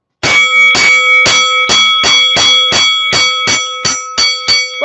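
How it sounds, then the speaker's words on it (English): A fight bell clangs over and over in a steady, loud rhythm, roughly a dozen metallic strikes in quick succession, each ringing with a bright sustained tone and no talking over it. "I'm getting ready to bring a fight bell out."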